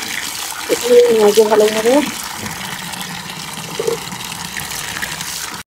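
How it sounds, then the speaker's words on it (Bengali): Tap water runs steadily while Malabar spinach leaves are rinsed by hand to wash off soil, a constant gushing flow with brief splashes, while a person speaks over it at the start. "তো পুঁই শাকগুলোকে আমি ভালোভাবে ধুয়ে নিচ্ছি।"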